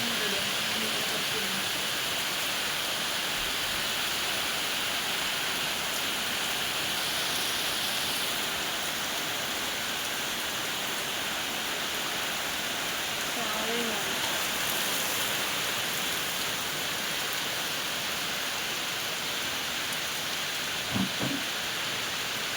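Rain falls steadily in a soft, continuous hiss, moderately distant, with a few faint knocks near the end.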